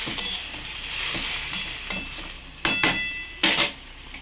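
Hilsa fish curry is stirred in a pan on a gas stove, with a soft continuous sizzle under scraping spoon strokes and two louder, sharp clattering stirs near the end, close and alone.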